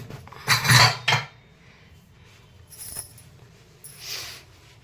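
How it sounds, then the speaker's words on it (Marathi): Metal pressure cooker lid clanks sharply into place in a home kitchen, two quick clattering bursts near the start, then softer clinks and a faint hiss as the gas is turned on. "आता इथे झाकण लावून गॅस चालू करायचंय"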